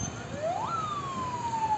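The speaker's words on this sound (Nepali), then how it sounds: "इमर्जेन्सी रूपमा साइरन बजाउँदै एम्बुलेन्स आइरहेको छ" An ambulance siren wailing in a traffic jam on Nepal's Prithvi Highway during road construction, a single rising then steady tone, moderately distant over low traffic rumble.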